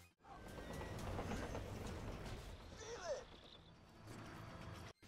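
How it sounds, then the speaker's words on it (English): A train in the Borderlands 2 video game rumbles past with a steady rolling roar and a brief metallic squeal midway, fairly quiet, with some speech mixed in. "Our next mission was to blow up a train and steal the vault key."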